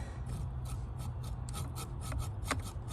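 A hacksaw cuts a fine sliver into a battery cable on a 6.7 Cummins truck, producing quiet, quick rhythmic rasping strokes, close and soft, with no talking.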